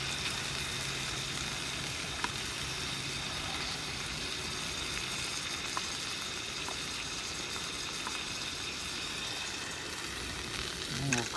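Onions sizzle and fry steadily in grease in a pot at a cold-weather camp, a dense continuous crackle with a few faint clinks, no talking.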